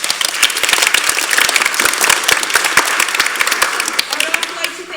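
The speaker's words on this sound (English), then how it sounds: "Give Ryan a clap." An audience at a summer camp curtain call claps for a crew member on the soundboard, a lively, fairly loud burst of sharp individual claps with some voices mixed in, tapering slightly near the end.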